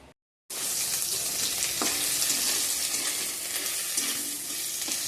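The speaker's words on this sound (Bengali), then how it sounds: "এইখানে আমি রসুন পেঁয়াজ তেজপাতা শুকনো লঙ্কা ফোড়নে দিয়ে দিয়েছি" Garlic, onion, bay leaf and dried chilli fry in hot oil as a tempering, giving a loud, continuous close sizzle after a brief pause at the start, with occasional stirring knocks; no speech.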